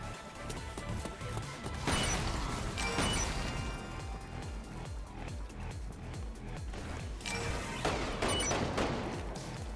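Shotgun fire in the video game Umbrella Corps: repeated loud blasts at irregular intervals over a dense, continuous din of game combat noise, with no one speaking.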